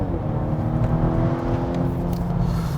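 A 2021 Volvo S60 B5 mild hybrid with a modest-torque engine accelerates on the road, a steady low engine drone and cabin rumble holding at an even level throughout, with no talking.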